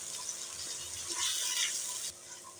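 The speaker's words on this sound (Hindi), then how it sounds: "1 प्याली आपने पानी शामिल करना है।" Water splashes into a pan of frying onions while cooking vegetable pulao, a short hissing, bubbling pour that cuts off abruptly near the end.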